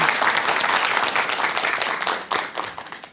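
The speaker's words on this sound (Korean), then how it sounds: "박수 쳐주세요." A seated audience at a Buddhist monk's talk breaks into close, lively clapping that holds for a moment, then thins into scattered claps and tapers off.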